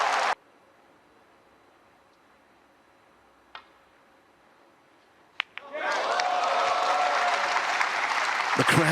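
At a snooker match in Kai Tak Arena during the World Grand Prix, a hushed room breaks with a couple of sharp clicks before the crowd bursts into sustained, loud applause.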